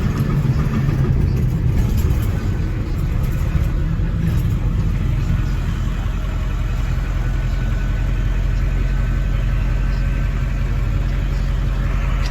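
A 2001 Ford E450 Super Duty cutaway flatbed with a 7.3 Power Stroke diesel runs steadily over a bumpy road, its deep engine rumble constant and close throughout with a dense low-frequency drone.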